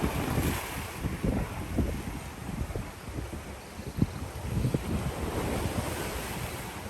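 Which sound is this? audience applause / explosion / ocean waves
ocean waves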